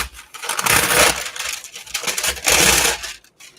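Strips of material torn off a roll in two long ripping pulls, close and fairly loud, with a short pause between them.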